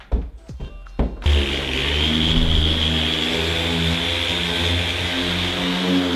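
A car polishing machine spreads polish at low speed across a panel, starting with a few handling knocks before the motor kicks in, then a steady loud whirring drone that holds close and even to the end.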